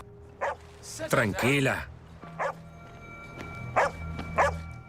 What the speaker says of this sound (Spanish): Empezó a ladrar y parecía estar angustiada